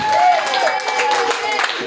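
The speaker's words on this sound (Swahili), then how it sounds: "Makofi mengi kwa Bwana ali hai" Church congregation clapping for the Lord during a Swahili sermon, dense steady applause throughout under a loud preacher's voice.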